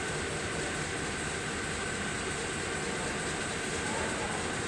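A Merseyrail train pulls out of James Street underground station on the 14:45 service to New Brighton, a steady, loud rumble of rolling wheels and motors filling the platform without a break.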